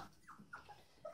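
A hungry puppy whimpers in a few short, high, faint whines spaced across about a second, close by and with no talk.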